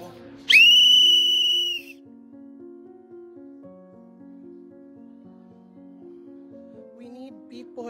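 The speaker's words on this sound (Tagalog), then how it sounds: "may Ma'am Abi, gitagaan mi niya og pito to signal na ana" A loud, shrill whistle is blown once as a signal, lasting about a second and a half, followed by quiet background music-like tones.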